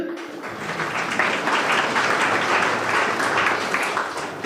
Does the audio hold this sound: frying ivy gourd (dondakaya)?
no